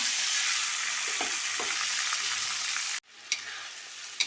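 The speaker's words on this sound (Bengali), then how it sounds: "মশলাটাকে আমি ভালো করে একটু নাড়িয়ে নেব" Spices such as turmeric sizzling steadily in hot oil in a pan for a Bengali papad fry curry, with a few stirring scrapes, then a sudden cut to quieter frying with faint clinks.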